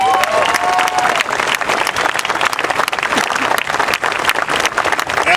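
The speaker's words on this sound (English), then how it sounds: "A big round of applause." A large outdoor crowd at the statue dedication ceremony for boxer Larry Holmes in Easton, Pennsylvania claps loudly and continuously, with scattered cheers and a few voices mixed into the sustained applause.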